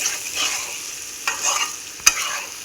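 Egg boiled fry masala is stirred in a pan over steady sizzling, with a few sharp spoon scrapes and clinks against the pan bottom, close and fairly loud.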